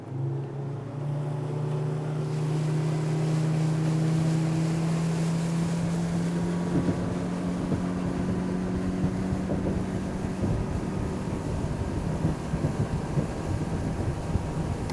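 A Yamaha F60 outboard motor, converted from an F50, drives a boat at full throttle on open water. Its steady, loud engine drone and whine carry throughout under wind and hull noise, rising slightly early on as the revs climb.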